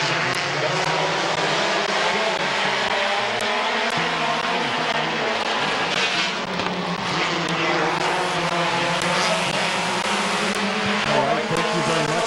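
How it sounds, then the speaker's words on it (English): Race cars roaring around the track at Midvale Speedway in a 2023 race, a loud continuous engine drone rising and falling as cars pass, with an announcer talking over the noise. "Chris Builder raced out to the race lead in that 9C machine"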